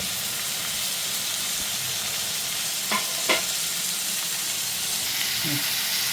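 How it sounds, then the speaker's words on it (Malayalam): Onion, green chili, ginger, curry leaves and garlic saute in a pan for egg curry, giving a steady close sizzling hiss broken by two or three brief scraping stirs. "ഇത് നമ്മൾ വാളയും പച്ചമുളക്, ഇഞ്ചി, വേപ്പലയും വെളുത്തുള്ളി എല്ലാം കൂടി ഇത് വഴറ്റണേന്ന്"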